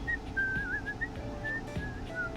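A game character in Date Everything whistles a light, wavering tune, clear and fairly close, with short breaks between phrases over a faint low background hum.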